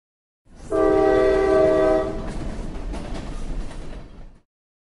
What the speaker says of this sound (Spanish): Tren.